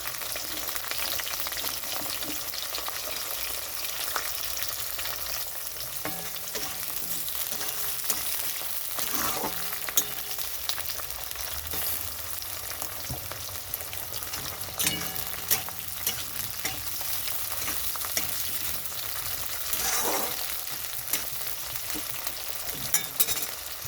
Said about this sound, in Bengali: এখানে পেঁয়াজ রসুন লঙ্কা ভাজা হয়ে গেছে